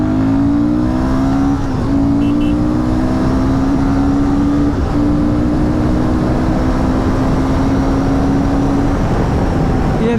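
A Royal Enfield Guerrilla 450 motorcycle in performance mode accelerates through gears, its loud engine tone climbing in pitch, dipping briefly at shifts, then rising again, close and continuous.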